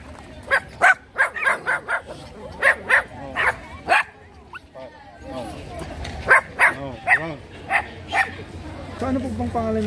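Dog brought in for vaccination during a rabies awareness drive in a rainforest area of Pasig, giving a run of close yaps and barks in uneven bursts, with people talking nearby.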